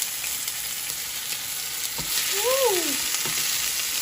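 Cod fillets fry in a hot pan for a curry cod dish, a steady close sizzle and crackle with light stirring, while a voice briefly exclaims partway through.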